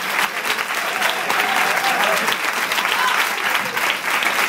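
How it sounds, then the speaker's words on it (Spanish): An audience at a Spanish interview event applauds for a former footballer, a sustained, even wash of many hands clapping close and loud throughout, with no talking. "Es un aplauso porque no lo tiene cualquiera."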